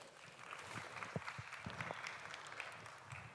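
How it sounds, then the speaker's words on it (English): Scattered applause from an audience at a climate resilience knowledge event, faint and fairly thin, with a few distinct claps over a steady patter. "Let's give her a round of applause"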